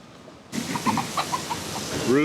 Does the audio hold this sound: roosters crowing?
yes